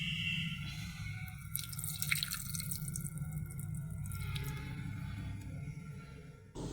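Water is poured over a deity idol during household worship, heard as a soft, continuous trickle with light dripping under low background noise and no talking.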